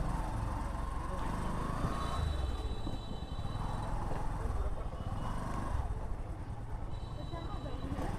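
Steady, dense traffic on a jammed main road beside a launch ghat in Gopalganj, engines and horns rumbling continuously at close range with voices mixed in.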